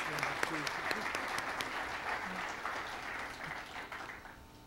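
An audience at a police department awards ceremony applauds the Citizens Alumni Association with moderate, steady clapping and scattered louder claps, with voices murmuring underneath, slowly tapering off.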